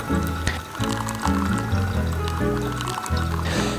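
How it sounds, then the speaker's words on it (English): Hot water is poured over coffee grounds in a V60 pour-over, making a steady, close trickling and splashing stream that runs continuously with small variations as the pour circles. "we pour the rest of the water in slow concentric circles until the weight hits the mark"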